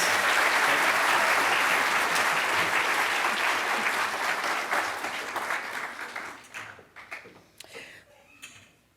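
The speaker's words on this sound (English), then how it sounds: "can we give our speaker one more round of applause?" Lecture audience at a nursing college event applauding the speaker, a dense burst of clapping that gradually thins out and fades to scattered claps.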